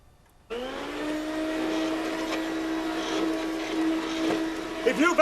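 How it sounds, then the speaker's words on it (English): A vacuum cleaner starts up abruptly and runs over carpet with a loud, steady whining drone, near and continuous, with voices cutting in toward the end. "If you vacuum that carpet anymore, you'll wear it out."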